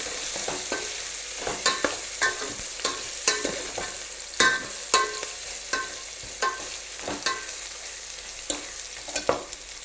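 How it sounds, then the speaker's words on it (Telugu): A spoon stirs raw masala through mutton and golden-brown fried onions in a pan, scraping in a steady series of sharp clicks and knocks over a constant sizzle, close and fairly loud with no talking. "ఈ పచ్చి మసాలా వాసన పోయేలాగా దీన్ని మంచిగా కలుపుకుందాము"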